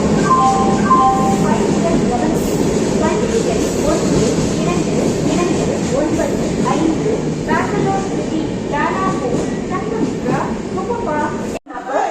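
An express train rumbles by at an Indian station, its heavy low drone and rhythmic rattling steady and loud throughout, with voices and a station announcement heard over it.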